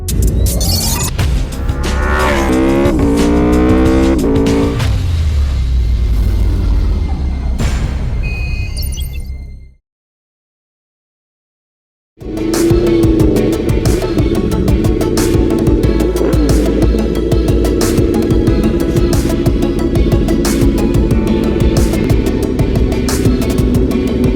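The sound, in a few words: Aprilia motorcycle engine started and revved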